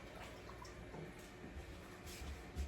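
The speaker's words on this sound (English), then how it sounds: "Let me rinse my hands off." Water runs from a kitchen tap while hands are rinsed under it, a soft steady trickle with small drips and splashes, faint and fairly close, with no talking.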